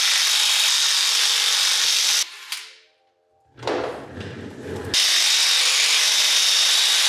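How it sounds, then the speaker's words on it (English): Lug nuts on a car raised on a lift being loosened with a power tool. A loud, steady mechanical whir breaks off into a short ratcheting burst and a near-silent gap, then comes back at full strength. "Let's get the wheels off."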